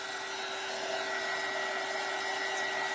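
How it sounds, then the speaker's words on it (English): A blow dryer runs in a steady, unbroken whir with a faint whine, drying a blob of paint inside a dollar store birdhouse, close and constant for the whole stretch. "I'm going to dry that big blob of paint in there."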